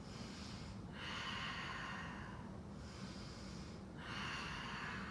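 Slow, deliberate breaths during a balancing warrior pose in a yoga flow, two long airy breath cycles, close and steady against a noisy background, with no talk.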